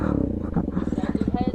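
Motorcycle engine started for wheelie practice, idling close by with a rapid, uneven throbbing pulse that loudens briefly as it is revved.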